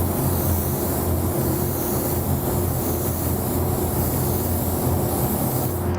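Spray gun laying down a second coat of Wicked Opaque Pyro Red paint, a steady, continuous hiss that runs unbroken at even loudness over a low steady hum.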